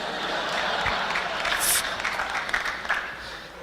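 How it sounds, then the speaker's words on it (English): An audience applauds at a talk, a steady, fairly loud mass of clapping that runs for several seconds with a few sharper accents, and no speech on top. "every time I say that, they love clapping that shit up"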